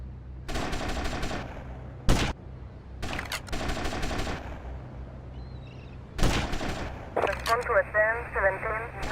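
Rapid bursts of gunfire in GTA Vice City as characters shoot each other, several loud volleys separated by short pauses, with game music or radio sounds near the end.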